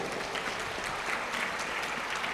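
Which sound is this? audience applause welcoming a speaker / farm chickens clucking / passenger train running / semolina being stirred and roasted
audience applause welcoming a speaker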